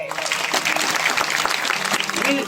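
Dense, continuous clapping from an audience at a devotional kirtan gathering, loud and close, with some voices faintly mixed in underneath.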